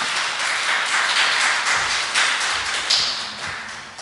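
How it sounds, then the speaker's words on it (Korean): Church congregation at a Sunday worship service applauding the musical ensemble, a thick, continuous wash of many hands clapping that swells and then tapers off near the end. "우리에게 예배 때 은혜로운 연주를 해주신 우리 앙상블에게 다시 한번 격려의 박수 부탁드립니다"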